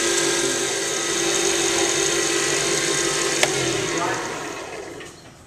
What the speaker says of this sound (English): we are going to use steel wool to smooth it out